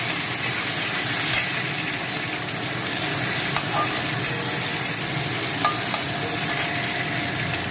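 Tomato goes into hot oil with cumin tempering in a pan for a light catla fish curry, producing a dense, steady close sizzle with occasional stirring scrapes and no voices.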